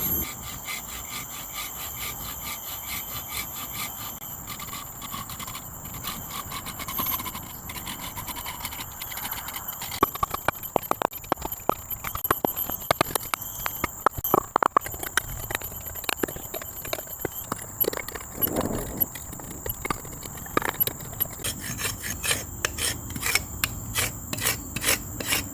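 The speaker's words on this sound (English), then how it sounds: "I'm going to make 4 cuts with that silky pocket boy, and then I'll use the machete or parang to batten and cut off the sides" Wood being cut with a Silky Pocketboy folding saw and split by batoning with a machete or parang to shape a mallet handle at a bushcraft camp, heard as repeated raspy strokes and scattered sharp knocks, up close, with no talking.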